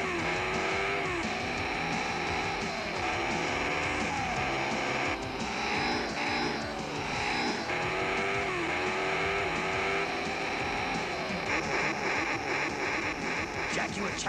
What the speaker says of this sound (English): Sound of real racing. You'll want to hear Scalextric with new Mega Sound.